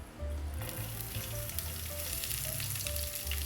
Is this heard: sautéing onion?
yes